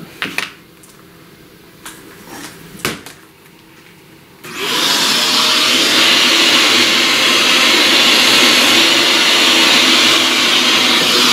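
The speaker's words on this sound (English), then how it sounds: "Let's vacuum all that." A vacuum cleaner starts up loudly after a few scattered taps and knocks, then runs as a steady, close, broadband roar for the remaining seconds while cleaning up after pastel work.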